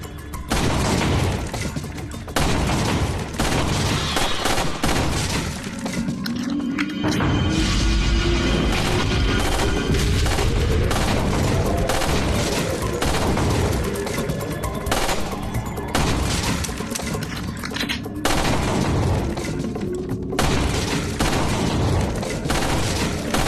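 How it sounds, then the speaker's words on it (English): Shots from the Matilda semi-auto pistol in Resident Evil 4 VR's shooting range fire repeatedly in quick bursts over a loud, continuous mix of impacts and game effects, with no talking. "Oh, it's a semi-auto pistol."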